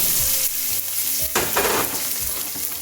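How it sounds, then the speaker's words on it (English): Chopped onion sautéing in extra virgin olive oil in a pan, a steady close sizzle with stirring scrapes and a louder burst of frying hiss partway through. "We're going to saute the onion."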